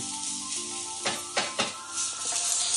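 Vegetables laid one by one onto a hot home grill surface with a spatula hiss and sizzle up sharply in several close bursts, each quickly settling back into a steady background crackle.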